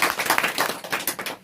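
A studio audience at a quiz show claps together in a dense, steady patter of many hands, fairly loud and close, without voices, before trailing off abruptly at the end.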